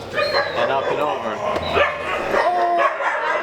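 A pitbull yelps and whimpers amid several other dogs, giving rising, whining cries and short barks nearby, with voices mixed in.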